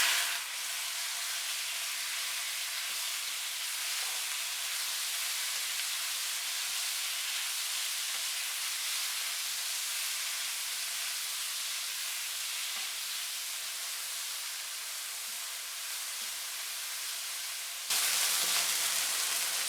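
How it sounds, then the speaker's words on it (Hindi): Marinated chicken fries with garlic in a hot pan, giving a steady broad sizzling hiss that runs unbroken and close, rising slightly louder near the end. "अब इसमें ये मैरिनेट की हुई चिकन डालेंगे और इसको कुक करेंगे।"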